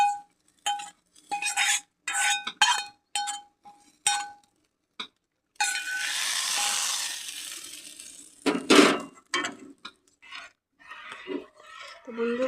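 Brown-fried onions tipped into a pot of matar dal and stirred, with a burst of sizzling hiss midway between scattered clinks and scrapes of a utensil against the pot, close and moderately loud.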